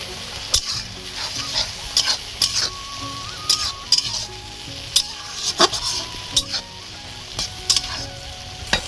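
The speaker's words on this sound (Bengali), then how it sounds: "সামান্য পরিমাণ জল দিয়ে একটু মিশিয়ে নেব" A spoon scrapes and clinks through a potato and eggplant curry in a pan after a little water goes in. The irregular strokes land close over a steady, soft sizzle.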